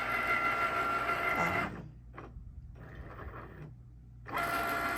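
A Cricut Maker cutting machine that fails to calibrate runs with a steady, close mechanical whir and motor drone, which drops to a quieter hum twice before resuming at full level.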